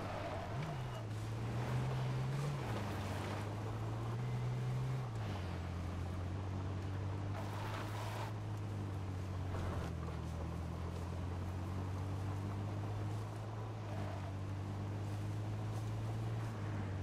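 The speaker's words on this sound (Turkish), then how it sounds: "Arabanın sesi yalnız az çıkıyor. Lüp lüp diyor ama" A car engine in the survival video game H1Z1 holds a steady, low droning hum for the whole stretch, dipping slightly in pitch after a few seconds and staying subdued throughout.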